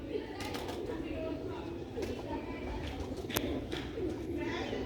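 Sialkoti pigeons cooing in a loft, soft low coos repeating faintly under a constant background hum, with a brief sharp click midway.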